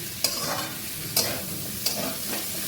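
Kohlrabi and potato for a prawn curry being sautéed in a pan with a little oil, three sharp spatula scrapes against the metal over a steady low sizzle, fairly close and with no talk.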